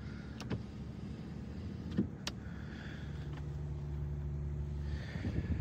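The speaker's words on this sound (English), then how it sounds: "If you look at the back here, we do also have your sliding rear window." A sliding rear window on a 2024 Ford F150 XLT pickup, heard as a low steady motor hum with a soft mechanical whir and a couple of faint clicks, close by with no talking.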